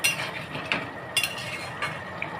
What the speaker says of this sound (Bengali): ঢাকনাটা খুলে দিলাম, একটু নাড়াচাড়া করে নিই